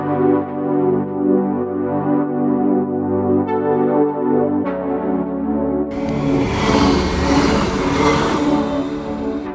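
A train rolls past on the tracks right beside a campervan parking spot, a loud, steady rumble with rhythmic clatter of wagons that swells into a harsher roar of wheels and rushing air near the end, with no voices.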